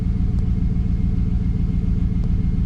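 A 2003 Chevrolet Silverado engine idles steadily after an intake manifold gasket change, giving a loud, even, continuous rumble close by with no talking.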